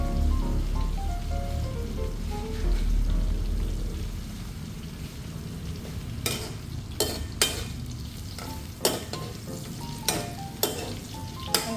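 Eggplant sizzles and crackles in hot cooking oil, a steady loud fry with sharp pops and spatters standing out in the later part, no one speaking.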